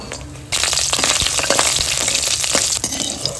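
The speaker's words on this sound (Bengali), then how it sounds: "এবার আমি ডালের বড়িগুলো ভেজে নেব।" Lentil dumplings (dal bori) fry in hot oil with a loud, dense, steady crackling sizzle that bursts in abruptly and carries on with fine spattering pops, no voices present.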